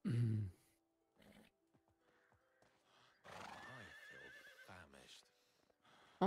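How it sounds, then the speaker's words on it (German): A foal neighs loudly in the medieval farming game Medieval Dynasty, a sharp whinny at the start followed by snorts, hoof clip-clops and further horse calls, with a person talking over part of it. "Oh, hier rennt ein Fohlen rum."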